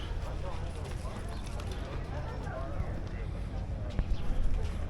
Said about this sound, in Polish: gdzie osły wszędzie łażą